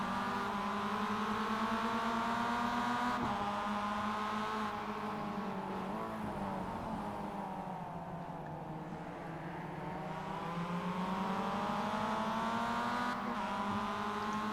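Mazda MX-5 Cup race cars lapping Tsukuba Circuit in the iRacing sim, engines droning steadily with rising and falling pitch as they accelerate and brake, loud and continuous throughout.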